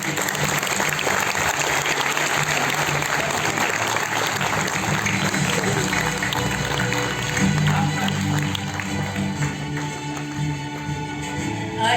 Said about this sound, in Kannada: ಇನ್ನೊಂದು ಜೋರಾದ ಚಪ್ಪಾಳೆ.